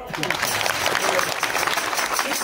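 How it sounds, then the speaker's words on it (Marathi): A devotional kirtan gathering at a temple claps together in a dense, continuous patter while a speaker's voice carries on over the applause. "एक टाळ्या वाजा बरं"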